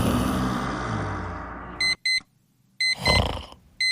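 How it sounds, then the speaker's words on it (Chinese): A bedside alarm clock goes off in a room where someone had been loudly snoring, sounding several short bursts of electronic beeping in two pairs separated by silence, with a louder rustling noise in between. "闹铃响了"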